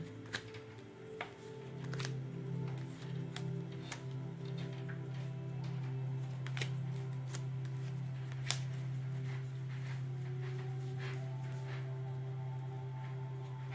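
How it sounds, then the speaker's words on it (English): Tarot cards are shuffled close by in soft, irregular riffles and crisp flicks over a low steady hum, with sharper snaps now and then and no talking. "I was so busy just shuffling my cards here."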